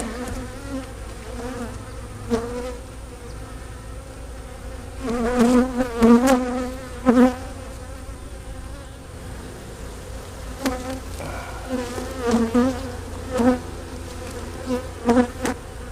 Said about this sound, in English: It's a good box of bees.